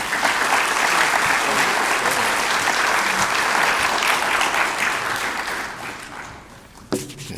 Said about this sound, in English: never applaud until you hear the speaker